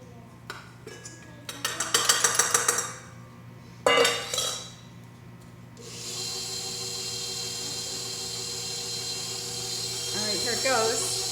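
An electric mixer whirs steadily through cashew cookie dough with dry ingredients added, a continuous motor drone rising after some clattering of bowls and utensils, while a person talks over it.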